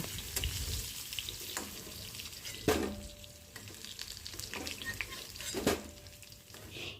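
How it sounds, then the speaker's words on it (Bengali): Potato chunks fry in hot oil for an egg curry, giving a soft, steady sizzle with a couple of sharp clinks of a utensil against the pan; no one speaks. "আলুগুলো হালকা ভেজে নিয়ে আলুগুলোকেও তুলে নেব"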